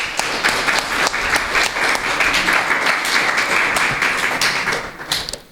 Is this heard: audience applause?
yes